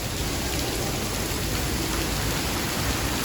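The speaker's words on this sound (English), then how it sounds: "It doesn't rain, it pours." Heavy rain pouring down steadily in New Orleans' French Quarter, a dense continuous roar of water hitting surfaces with no gaps, loud and close throughout.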